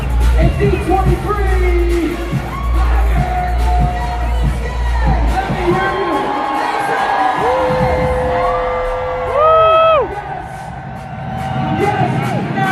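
A large D23 crowd at the Disney Legends Ceremony yells, whoops and screams in swelling waves, with an amplified host's voice and booming music over the noise.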